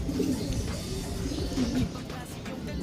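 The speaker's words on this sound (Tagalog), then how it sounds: "sabay papakainin na po natin yung mga ibon natin" Racing pigeons coo softly nearby at feeding time, low throaty warbling calls repeating over a murmur of background noise.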